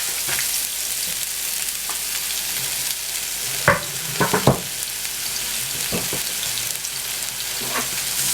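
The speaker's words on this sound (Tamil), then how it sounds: "ஆனியன் அண்ட் வத்தல் வந்து நல்லா வதங்கணும்" Onion and dried red chillies fry in oil with a steady broadband sizzle, broken around the middle by a few sharp scrapes and knocks of a spoon stirring the pan.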